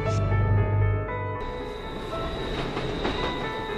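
A train in the film The Little Mermaid (2018) rumbles along the rails with a loud steady roar and sustained tonal hum, wheels clattering faintly beneath.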